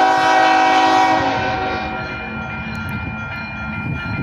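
BNSF locomotive leading a slow westbound UP freight manifest at Kinder, Louisiana, a loud close horn blast fading out after about two seconds into rumbling engine and rolling wheel noise.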